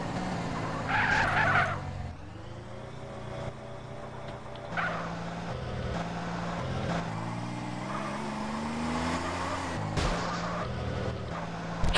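Car engine revving and tires screeching in Grand Theft Auto: San Andreas, with sustained skids, gear-shifting engine tones rising and falling, and occasional bumps and impacts, loud and continuous.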